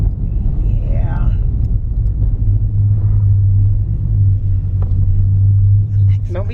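A Dodge Charger 392 Scat Pack V8 with a deep, steady engine rumble from inside the car, holding a low, droning tone that swells slightly midway, with voices talking over it.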